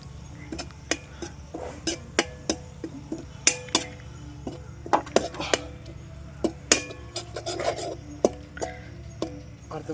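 A ladle stirs ground ginger garlic paste in a pan over a low flame, giving repeated sharp clinks and scrapes at an uneven pace over a low steady hum, close by, with a voice speaking at times.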